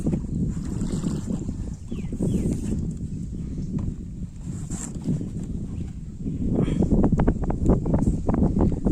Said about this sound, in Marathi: वारा पण भरपूर आहे आज